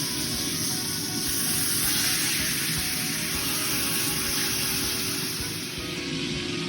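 A home-cooked steak sizzling in a hot pan after being flipped, a loud, continuous hiss and crackle that holds steady and eases slightly toward the end, with no talking.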